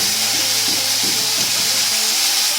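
Matambaka fish fry in hot, smoking oil with a loud, steady, close sizzle and hiss. Voices can be heard faintly beneath it.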